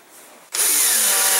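A power driver sets screws fitted with small washers into a homemade Boeing 737 flight-simulator yoke, starting up sharply after a faint moment and holding a loud, steady whine close by.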